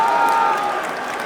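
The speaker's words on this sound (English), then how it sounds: "listen to the crowd. Yo, the crowd is not happy." Large unhappy crowd at the Evo 2015 Super Smash Bros. Melee tournament, heard as a loud, sustained roar of murmuring and scattered noise from the audience, with no clear talking over it.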